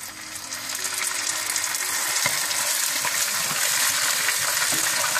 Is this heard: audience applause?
no